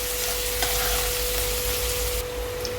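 Onion, tomato and ginger-garlic paste fry in a pan for a pomfret fish curry, giving a steady close sizzle with faint stirring and no voices.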